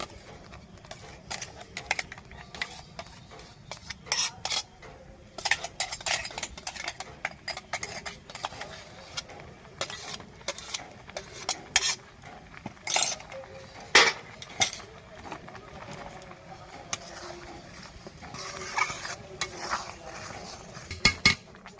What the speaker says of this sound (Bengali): এবারে আমি আস্তে আস্তে করে সুজিটা দিতে থাকবো আর নাড়তে থাকবো।